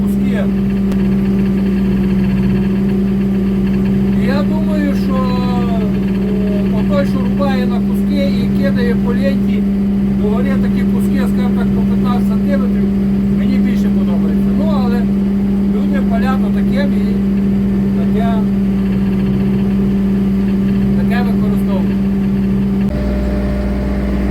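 A Scout T-904 tractor engine runs steadily at 1900 rpm driving a hydraulic wood chipper, a constant loud close drone throughout while someone talks over it.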